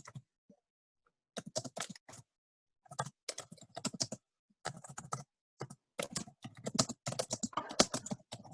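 Bursts of fast, frantic typing on a computer keyboard in a meeting, clustered clacking with short pauses between runs, moderately close and heard alone without any talk.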